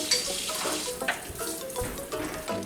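Water runs steadily from a tap while a cast iron pan is washed in a sink, with light clatter and splashing throughout, close by.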